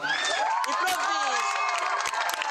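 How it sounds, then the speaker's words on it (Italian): A beer festival crowd at a live concert cheers and whoops, with shouting voices and some clapping blending into a loud, continuous roar throughout. "Intanto vogliamo sentire un grandissimo applauso."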